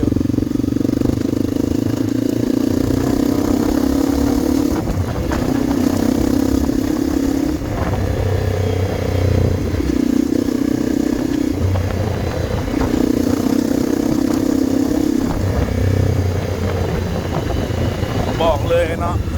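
A 450 dirt bike engine at a Lao rocket festival in Ban Sang Hua Bo, droning steadily close by and rising and falling in repeated surges, heard under ongoing talk.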